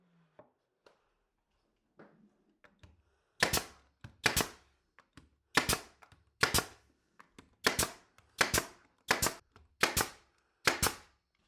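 Plywood pieces are fastened to a cabinet in a small woodshop with a nailer, firing about ten sharp, loud snapping shots in an irregular rhythm after some quiet handling taps.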